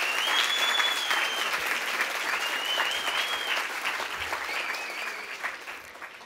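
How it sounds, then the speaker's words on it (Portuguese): Audience at a youth parliament ceremony in Campinas applauding a ballerina and the municipal council choir, thick sustained clapping from a large crowd with a faint whistle-like tone above, gradually easing off. "Uma salva de palmas à bailarina e ao coral da Câmara Municipal de Campinas."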